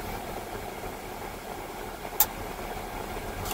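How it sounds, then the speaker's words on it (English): A pair of air-cooled chillers runs on a mall rooftop, giving a steady, even mechanical drone with a low rumble. A brief sharp click or clank breaks in near the middle, and no one speaks. "So we got a pair of air-cooled chillers."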